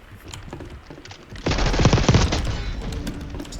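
Video game gunfire breaks into a dense, loud burst of rapid automatic shots over a low background rumble, continuing for a couple of seconds with no voices.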